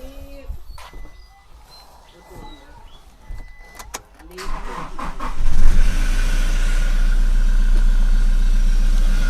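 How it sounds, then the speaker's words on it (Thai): Some clattering and faint voices, then a Toyota Hilux Revo pickup truck engine starts and settles into a loud, steady idle with a deep rumble that carries to the end. "ฟังเสียงเครื่องยนต์นะฮะ"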